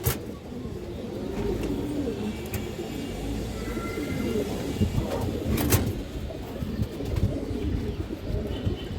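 Pigeons coo softly and steadily throughout, with a few scattered chirps and occasional knocks, as if from a busy loft.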